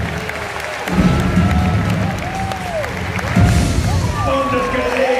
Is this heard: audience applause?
yes